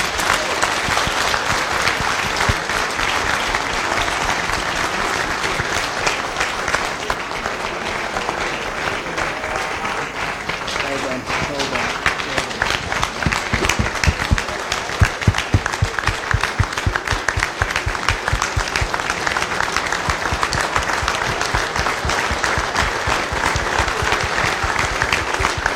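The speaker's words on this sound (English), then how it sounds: "We just want to applaud this gentleman." Sustained applause from a dinner audience at an accountants' centenary gala, steady and loud throughout, with dense clapping that swells slightly toward the middle.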